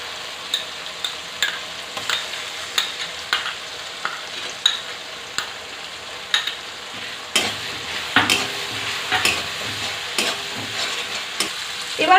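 Ground spice paste frying with softened tomato, onion and salt in a pan, a spoon scraping and stirring in a steady rhythm, then a louder, denser sizzle partway through.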